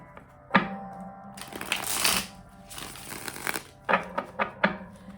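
Tarot cards being shuffled by hand, close and fairly loud, with a rushing riffle that builds, a short break, then several sharp taps and thunks as the deck is squared.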